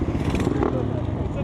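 A 125cc two-stroke dirt bike rides past with a short, buzzing engine rasp, heard briefly and mixed with voices nearby.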